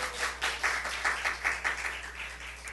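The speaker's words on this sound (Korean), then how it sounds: "우리 하나님 감사의 박수 한번 올려드려요" A church congregation at a morning sermon gives a brief round of clapping in thanks, a fairly faint, uneven patter of hands with soft rhythmic pulses that lasts a few seconds in a reverberant room.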